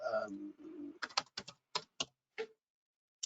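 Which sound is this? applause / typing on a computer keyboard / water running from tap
typing on a computer keyboard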